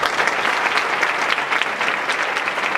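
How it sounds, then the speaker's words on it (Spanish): An audience at an entrepreneurship awards ceremony in Fuenlabrada claps warmly to welcome the city's mayor, loud, close and continuous throughout. "Y yo pediría que recibiéramos con un aplauso al alcalde de la ciudad, don Manuel Robles Delgado"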